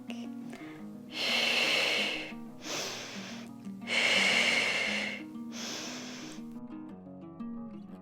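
Breathing during a Pilates workout: four loud, airy breaths, each lasting about a second, follow one another steadily over soft background music with no talking.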